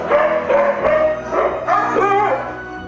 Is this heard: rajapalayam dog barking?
yes